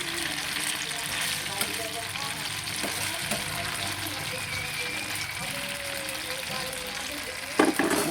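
Bitter gourd with egg and tomato being stirred and fried in a pan, a steady loud sizzle running throughout with scraping utensil strokes and a clatter near the end; a voice talks faintly underneath.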